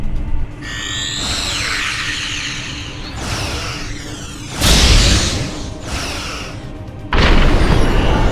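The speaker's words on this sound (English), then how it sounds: "Targeting the Transwarp network. Firing the weapon!" A sci-fi weapon fires at the Transwarp network with a rising whine, then heavy booming blasts and roaring rushes that surge loud in waves, closing on a sustained powerful rumble.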